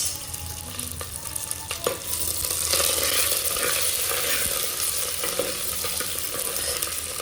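Dry chillies, curry leaves and onion fry in hot oil for a tempering, giving off a steady, close sizzle. Light stirring clinks sound throughout.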